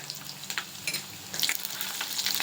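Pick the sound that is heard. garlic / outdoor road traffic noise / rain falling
garlic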